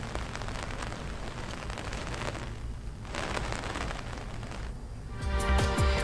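Steady monsoon rain in Jammu and Kashmir falls in a dense hiss, with a heavier rumbling patter near the end.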